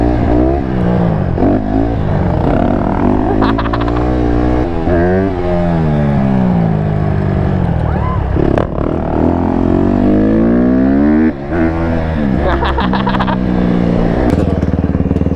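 A two-stroke quad engine revs repeatedly, climbing and falling in pitch through several loud, buzzy bursts close by, with rattling clatter between throttle blips.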